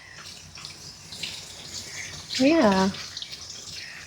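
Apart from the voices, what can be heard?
running tap water for bathing a dog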